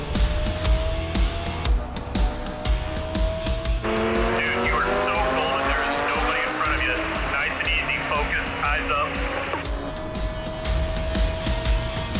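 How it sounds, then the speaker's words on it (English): An Audi R8 race car accelerating hard on a racetrack during qualifying, overtaking a Ferrari; its engine note climbs steadily in pitch across the middle of the clip, loud and close over constant track noise, with talk running throughout. "Brad's like, okay, you know, get on it hard, get past that Ferrari and get up to speed."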